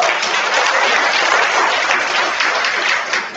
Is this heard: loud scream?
no